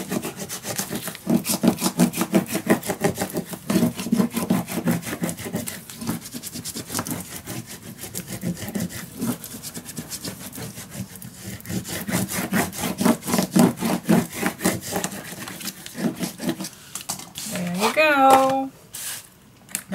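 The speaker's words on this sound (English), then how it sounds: "Just turn it over and burnish it down." Paper being burnished down by hand in a steampunk Christmas craft project, a steady run of quick scratchy rubbing strokes, close and continuous, ending with a brief squeaky sound.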